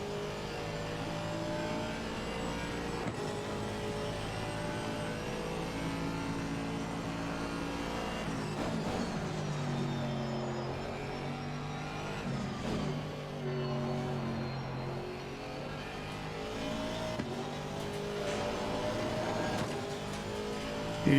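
An Aston Martin V8 GT3 race car laps Suzuka in a racing video game, its engine note rising and falling through gear changes at moderate level, with occasional tire squeal and no talking.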